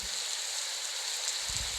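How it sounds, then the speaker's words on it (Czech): Steady rain falling, a dense even hiss of drops throughout with a low rumble near the end. "a teď už prší"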